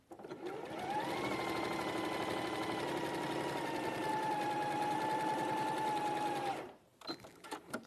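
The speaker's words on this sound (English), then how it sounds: "I'm going to sew down that line" A sewing machine runs fast along a marked line in one long, continuous whirring burst. It holds a steady speed for several seconds, then cuts off abruptly, leaving a brief quieter tail.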